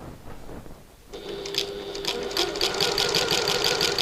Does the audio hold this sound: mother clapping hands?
no